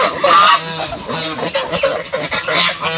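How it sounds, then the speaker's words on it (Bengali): Village ducks heading down into a pond in the morning call over one another in a busy, steady stream of nasal quacks and honks, loud and near, with no speech. "দেখুন কত হাঁস ঘাটে চলে এসেছে সকালবেলায়।"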